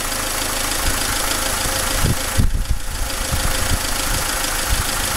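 A Renault dCi diesel engine in a Dacia Logan idles with a steady knocking rumble, loud and close, with a short uneven stumble near the middle before it settles back to an even idle.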